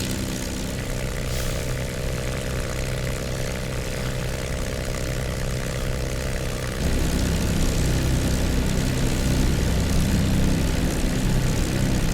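A P-51D's Merlin engine runs steadily in the DCS flight simulator, a loud, deep propeller drone that grows heavier and fuller partway through, with no voices over it.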